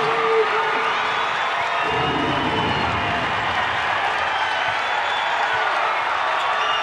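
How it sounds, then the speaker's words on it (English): A large arena crowd at a women's college basketball game between South Carolina and Missouri at Mizzou Arena cheers and applauds after a made three-pointer, a steady loud roar of voices and clapping held throughout. "Big crowd at Mizzou Arena getting to their feet"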